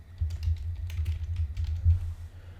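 Typing a layout name on a computer keyboard, a close, quick run of light key clicks and taps lasting a few seconds, with no voices.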